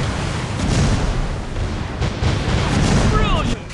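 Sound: torpedo hit explosion in a naval warship video game

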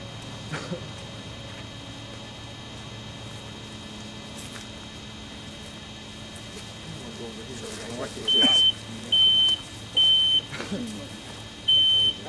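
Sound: smoke detector alarm going off during fire

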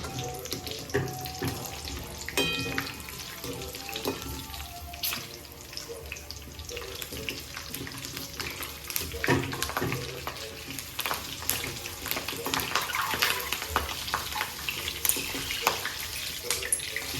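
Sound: frying green chillies in oil

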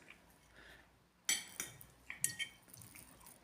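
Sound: cake being cut with cutlery

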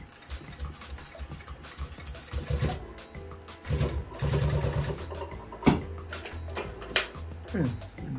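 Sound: sewing machine stitching leather

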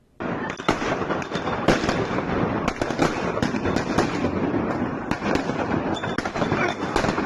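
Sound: fireworks thrown by protesters in Batman street clashes

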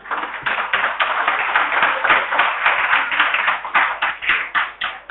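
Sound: audience clapping in a lecture hall

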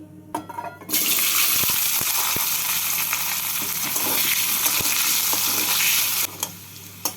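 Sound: potatoes frying in hot oil

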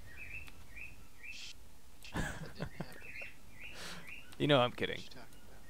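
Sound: birds chirping

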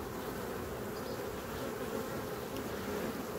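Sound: honey bees around hive frames

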